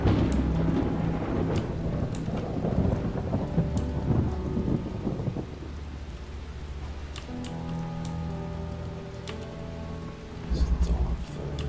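Rain and rolling thunder in the video game The Talos Principle, a steady hiss of rainfall with a loud low rumble early on, easing to softer rain with a later thunder swell.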